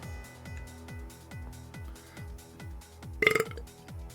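A short burp rises briefly over a quiet background of steady rhythmic thumping.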